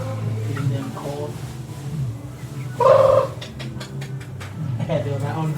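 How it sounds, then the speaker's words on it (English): Poultry calling on a farm in Haiti, with a short burst of gobbling or clucking amid steady conversation between people; the birds are near and moderately loud against the talk. "Got this chicken here, guys."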